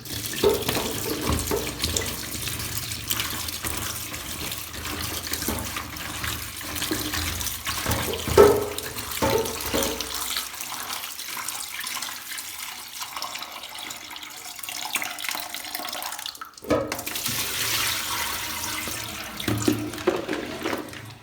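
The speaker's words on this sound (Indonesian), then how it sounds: "Sebelum diolah, bunga rosellanya dicuci terlebih dahulu menggunakan air bersih." Rosella flowers are washed under a running tap in clean water, a continuous close splashing stream with sloshing and handling noises, briefly cutting out before resuming.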